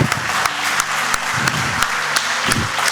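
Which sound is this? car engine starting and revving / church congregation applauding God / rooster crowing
church congregation applauding God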